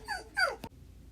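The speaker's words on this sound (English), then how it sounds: "my dog starts barking and ruins the video" A pet dog gives two short high yips or whiny barks close by in a home, followed by a brief click, then quiet room tone.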